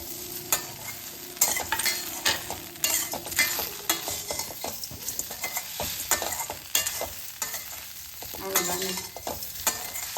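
Wheat flour masala ammani kozhukattai mixture is stirred in a hot pan, with repeated close spatula scrapes and clatters over a continuous sizzle.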